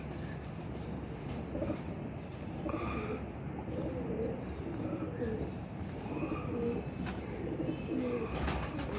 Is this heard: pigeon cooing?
yes